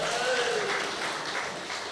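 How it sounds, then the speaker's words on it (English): An audience applauds the new MC at an evening community awards night, steady dense clapping for about two seconds with faint voices mixed in. "Give him a round of applause."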